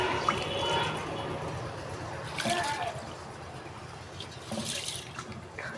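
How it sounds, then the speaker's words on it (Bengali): Rice grains swished and rinsed in water in a kitchen, with soft sloshing, splashes and trickles near at hand, and quiet talk in the background. "চালগুলো ভালো করে ধুয়ে নেব।"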